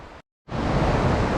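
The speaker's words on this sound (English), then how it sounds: "Stopped at this really pretty waterfall." Rushing water from a pretty waterfall along a high creek in the Great Smoky Mountains, a steady broadband roar that cuts out briefly near the start and then returns loud and constant.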